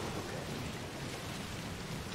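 Steady rain with thunder rumbling in a stormy scene from the video game Death Stranding, a dense continuous wash of noise with low rolling rumble, no voices.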